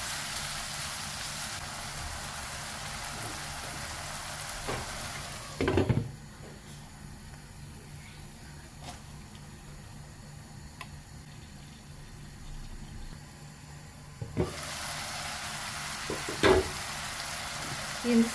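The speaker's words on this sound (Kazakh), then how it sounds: "Осыны енді 5 минут қуыратын боламыз." Chopped onions and tomatoes fry in a pan for pasta Alfredo, giving a steady hiss and sizzle that drops quieter midway, with a few sharp clinks of stirring against the pan near the start and end.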